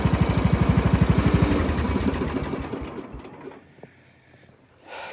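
A John Deere 160 lawn tractor fitted with a 42-inch snow plow runs with a rapid, loud, throbbing engine beat, then winds down and falls quiet as it shuts off.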